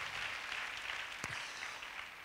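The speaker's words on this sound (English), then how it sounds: "Let's give an applause to the Lord." Church congregation applauding in a faint, steady wash of clapping, with one brief sharp knock partway through.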